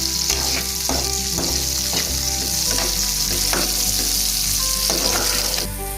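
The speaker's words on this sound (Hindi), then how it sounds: "ये जो कैप्सिकम और अनियन है इसको आपको पकाना नहीं है, बस इसको थोड़ा सा फ्राई करना" Capsicum and onion fry briefly over high heat, a loud continuous sizzle broken by regular scraping and tapping strokes of a spatula stirring the pan, close up and without speech.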